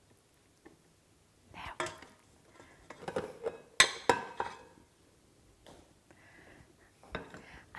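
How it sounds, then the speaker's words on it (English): Pizza dough is scraped off a mixing machine's surface in a kitchen with soft scrapes, knocks and metallic clinks in uneven bursts. A single quiet spoken word is heard among the handling sounds. "we lift this up, scrape off our dough"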